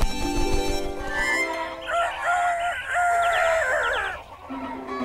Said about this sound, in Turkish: Sabah oldu ve horoz gürültülü bir şekilde ötüyor.